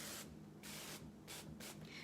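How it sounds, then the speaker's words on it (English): Cooking spray hisses onto a waffle maker in four short bursts of varying length, close and fairly loud, with brief pauses between them and no talking. "so it does say spray your little cooking device here"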